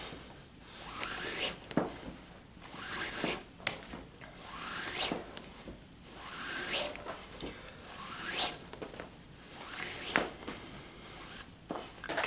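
Fifty feet of 550 paracord pulled through a triple cobra weave for a gun sling, a soft zipping rub repeated in steady strokes about every one and a half seconds, close and quiet.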